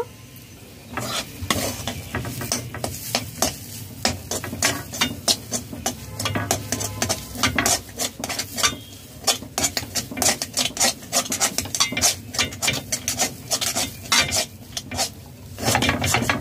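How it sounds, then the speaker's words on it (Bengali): A spatula scrapes and stirs green pea kachori filling around a wok in quick, continuous rhythmic strokes, with a faint sizzle beneath the close scraping. "পুর তৈরির সময় কন্টিনিউ নাড়তে হবে, নিচে বসে যাবে, সেই জন্য।"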